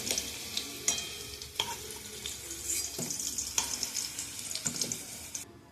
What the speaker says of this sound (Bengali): আলুটা আমার বেশ সুন্দর ভাজা হয়ে গেছে, লাল লাল হয়ে গেছে।